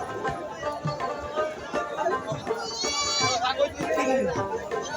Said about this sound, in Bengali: ছাগল উঠেছে বন্ধুরা।